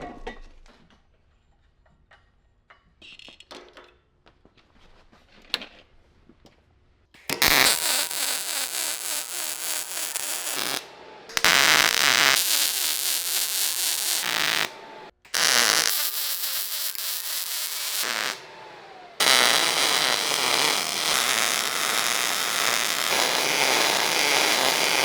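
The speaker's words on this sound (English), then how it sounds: "I'm going to weld these on, I think." Steel legs being welded on, joining 3/16-inch steel to 16-gauge: after quiet shuffling, four loud, steady crackling bursts of welding, each several seconds long and separated by brief pauses.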